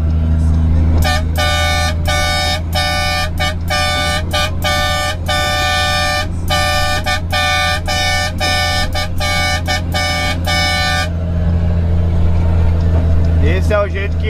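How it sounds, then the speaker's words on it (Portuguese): A modified car horn honks in a long run of rapid, rhythmic bursts with brief gaps, loud and close over a steady engine rumble, then stops. "Esse é o jeito que a maioria da galera buzina aí, né?"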